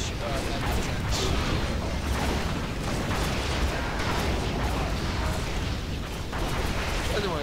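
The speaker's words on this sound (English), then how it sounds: "his sonic emitter is doing the damage he needs against those enemy tanks" A sonic emitter blasting enemy tanks in Command & Conquer 3: a dense, unbroken roar of battle noise with scattered bursts and booms, loud and steady for several seconds.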